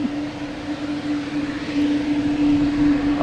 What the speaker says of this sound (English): This JetBlue is really, really loud.